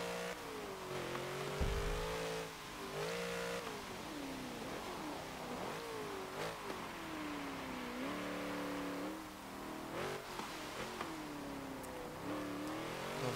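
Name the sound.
1963 Volkswagen Beetle engine racing in video game Forza Motorsport 7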